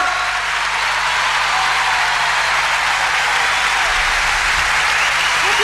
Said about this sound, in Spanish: Fuerte el aplauso para estos dos artistas impresionantes,